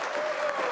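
Parliament members applaud and cheer in a debating chamber, a brief, dense burst of clapping and crowd noise from a packed room.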